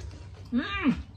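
A cat meows once, a drawn-out rising and falling mew close by, heard over a low steady background hum during a home meal.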